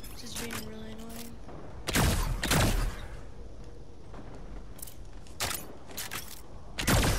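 Rapid bursts of gunfire from a Star Wars–themed shooter game, several sharp loud volleys spaced irregularly over a steady background of game noise, with a voice speaking between shots.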